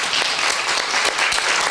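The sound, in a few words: congregation applause welcoming children to the stage at church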